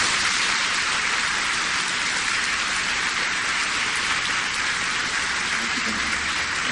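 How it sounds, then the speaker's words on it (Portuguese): A church congregation at a Sunday Mass applauds young confirmation candidates, steady dense clapping filling the space evenly for several seconds with no voices heard. "Uma salva de palmas para eles."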